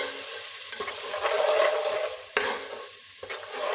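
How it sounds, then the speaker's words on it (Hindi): Dry whole spices with cumin are stirred and roasted in a pan while cooking dhaba-style mash ki daal, giving a soft steady sizzle with a couple of sharp spoon scrapes against the pan, close up. "इसको हमने हल्का सा मसालों को भूनना है ताकि इनकी खुशबू छूट जाए।"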